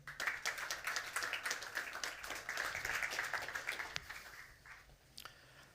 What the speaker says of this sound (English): I would like to ask for your applause for David Rufino, founder and CEO of Photobooking